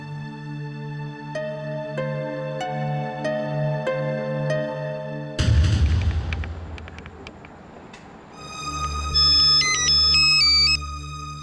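A melodic phone ringtone plays loud and repeating, then breaks into a noisy burst before an electronic tune resumes near the end, with no talking.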